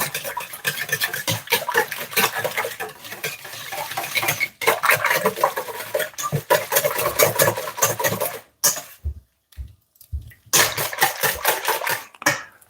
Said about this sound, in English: I'm going to try whisking the egg inside the milk.